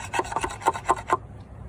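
A chisel-like tool scrapes sealant off a crashed Mercedes CLC200 in about six short, rasping strokes, close and fairly quiet, then stops.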